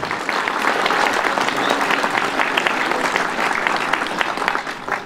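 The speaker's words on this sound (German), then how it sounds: "Dafür erst einmal einen Applaus." A demonstration crowd against wind turbines in the forest bursts into loud, sustained applause, dense clapping from many hands that continues evenly for several seconds.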